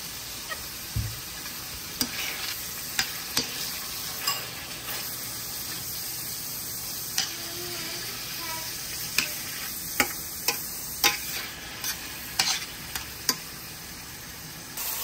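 Meat fries in a pan with a quiet continuous sizzle, broken by repeated sharp clicks and taps of a utensil stirring and scraping, close up and without speech.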